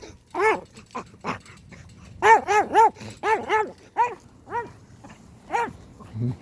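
A dog barks close by in quick bursts, some single and some in clusters of three or four, with short pauses in between.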